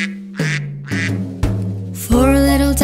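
Four loud, nasal duck quacks in a children's nursery rhyme song about little ducks swimming, evenly spaced over a steady musical backing, with the last quack longest.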